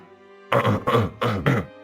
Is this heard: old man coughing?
yes